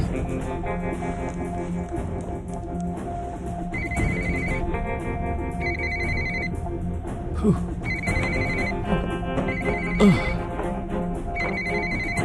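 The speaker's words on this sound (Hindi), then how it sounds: "सुबह सुबह किसकी कॉल आ रही है?" A phone ringtone plays repeatedly in a steady melodic pattern over a busy background with music-like tones, moderately loud throughout.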